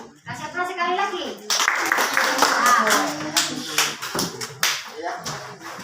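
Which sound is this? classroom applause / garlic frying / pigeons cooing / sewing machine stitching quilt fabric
classroom applause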